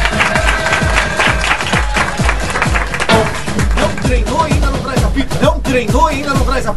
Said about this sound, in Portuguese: Palmas para a Cícera.